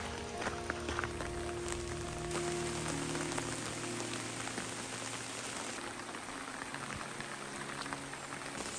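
Steady rain falls outdoors near a hotel, a dense, even hiss of drops hitting surfaces that continues without a break at moderate distance.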